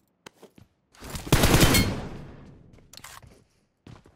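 Burst of P90 submachine gun fire in a video game, a dense rapid volley lasting about a second and a half before trailing off, with a few short sharp clicks before and after.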